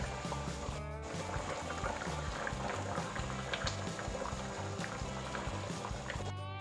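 Sugar syrup simmers with pumpkin pieces for Thai candied pumpkin over high heat, giving a steady, continuous bubbling hiss with a low hum underneath, unbroken from start to finish.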